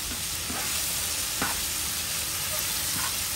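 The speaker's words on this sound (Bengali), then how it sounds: "তো আবার সব কিছু দিয়ে আমি এটাকে মিক্স করে নেব, একদম ভাজা ভাজা করে নেব অল্প আছে।" Pigeon meat frying with chili powder over a lowered flame: a dense, continuous close sizzle and hiss with a few faint stirring scrapes, loud and unbroken, with no talk.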